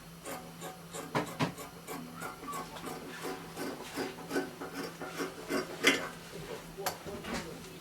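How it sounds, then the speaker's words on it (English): Scissors snip through fabric while cutting out the armhole of a two-piece bubu kaftan dress, giving a run of close, quiet, irregular cuts and rustles. "So I'm cutting out the armhole."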